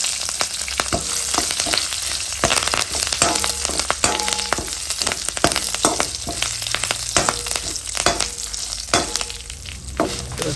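Byadagi chillies and curry leaves fry in a pan with a loud, dense sizzle, broken by frequent clattering stirs and scrapes of a utensil against the metal.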